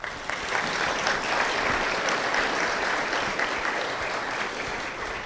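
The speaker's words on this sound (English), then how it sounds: "If everyone wants to give them a round of applause." Steady applause from an audience at a senior student-athlete luncheon for graduating Washington State University athletes, sustained clapping filling the room at a moderate level throughout.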